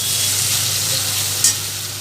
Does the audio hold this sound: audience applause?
no